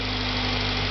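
Engine of a 1991 Acura Integra running steadily, a dense continuous hum with a low droning tone, close and unbroken for the whole second.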